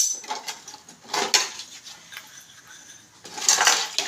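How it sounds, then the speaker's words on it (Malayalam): Pots and dishes being washed, with a series of close metallic clinks and scrapes of vessels knocking together, busier near the start and end, and no talking. "ഒരു ചമ്മട് പാത്രം ഉണ്ടായിരുന്നു കഴുകാൻ."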